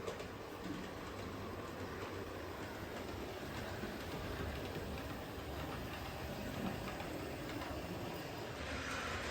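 A model train runs on the bypass line of a layout during an operating session, giving a continuous steady rumble with faint clickety-clack that stays constant throughout, with no talking.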